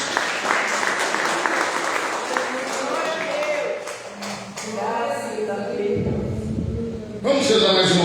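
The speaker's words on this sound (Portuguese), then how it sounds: "Palmas para Jesus" Applause rings out in a church congregation during an evangelical worship service, a dense wash of clapping with scattered louder claps, running steadily before voices and a low hum take over near the end.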